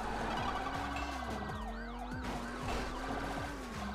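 Wailing police car siren in a driving video game, a loud steady rising-and-falling electronic wail over engine drone, with no talk.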